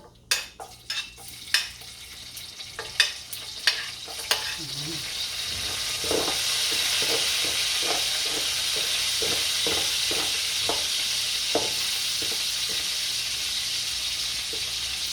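Garlic frying in a pan for ginisang sitaw with pork: a few sharp clinks at the start, then a steady loud sizzle from about six seconds on, with scraping stirs poking through it.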